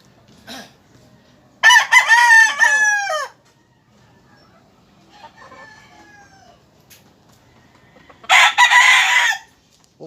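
A young gamecock (stag) crows twice at a rooster farm in Laguna, each a loud, close, drawn-out cock-a-doodle-doo, separated by quiet stretches with faint clucks and background noise.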